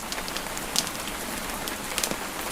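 Steady rain patters outside a cozy cottage, a soft continuous hiss with scattered droplet ticks and faint crackles from a fireplace, no voices.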